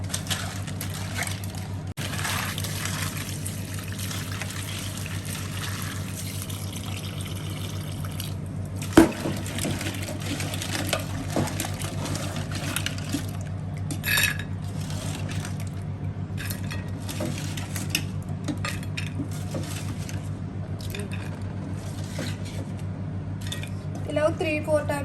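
Crabs being washed in water for an Andhra crab curry, with steady sloshing, drips and light clatter of a pot or utensils continuing throughout, close by and moderately loud, a few sharper knocks standing out.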